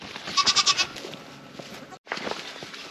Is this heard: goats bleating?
yes